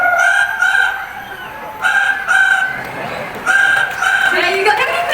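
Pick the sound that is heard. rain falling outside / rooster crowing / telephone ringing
rooster crowing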